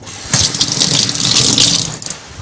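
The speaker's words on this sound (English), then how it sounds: "Let me just rinse off one of these." Water runs from a kitchen tap as something is rinsed under it, a loud, close hiss and splash that starts abruptly and stops after about two seconds, with no talking.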